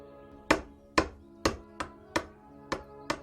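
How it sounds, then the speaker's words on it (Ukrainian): Hammers striking nails into a wooden coffin lid, seven sharp, resonant knocks at a steady, slightly uneven rhythm, close and clear, each ringing briefly before the next. "І тут з виляском ударили по цвяхах молотки"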